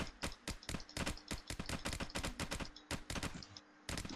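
Rapid AR rifle fire in the Task Force game, loud close shots in quick bursts with brief gaps between volleys and no talk.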